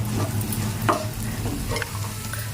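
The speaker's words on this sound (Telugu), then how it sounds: "చేప ముక్కలు వేసి కొంచెం ఇలాగ నూనెలో ఎగుతాయి" Fish pieces fry in hot oil with onion paste for a tamarind fish pulusu, making a close, steady sizzle with a faint stir or two and no talking.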